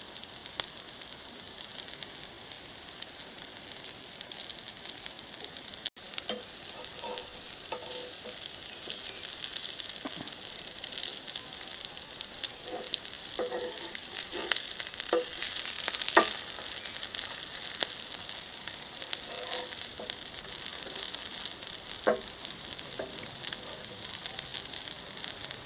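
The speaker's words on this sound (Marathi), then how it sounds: "दोन्ही बाजूनी छान खरपूस होईपर्यंत आपल्याला ह्या शॅलो फ्राय करून घ्यायच्या आहे" Corn and spinach (palak) tikki patties shallow-fry in a pan, giving a soft, steady sizzle with occasional small crackles and pops, quiet and close with no talking.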